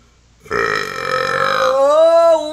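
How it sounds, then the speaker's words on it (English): A single long, loud, deliberate burp performed as a riff by a streamer during a community game session, its pitch wavering and rising as it drags on for about two seconds with no talking over it. "I've got to do this burp thing now"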